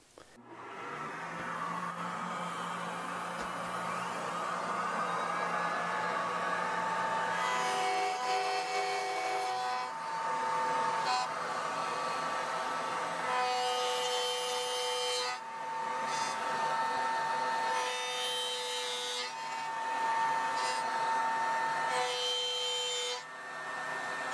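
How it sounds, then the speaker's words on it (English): A router cuts dovetails in wood with a continuous whining motor and steady cutting noise, shifting in pitch as passes begin and end, close and without speech. "So enough talk already, let's cut some dovetails."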